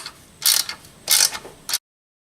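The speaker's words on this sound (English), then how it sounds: "tighten them, snug them up really good." Three quick bursts of ratchet-wrench clicking, close and fairly loud, come as clutch bolts are snugged down during a stage 1 clutch install on a Ford Escort ZX2, with short pauses between strokes and silence at the end.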